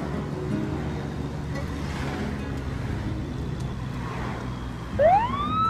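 In a children's animated cartoon about cars, an ambulance siren sweeps upward loudly during the final second, after a long stretch of quiet background sound.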